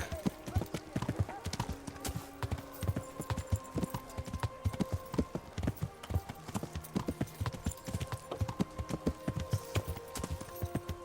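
Horse hooves clip-clopping in the medieval video game Kingdom Come: Deliverance, a brisk regular rhythm of close hoof falls with a faint whinny, under occasional talk.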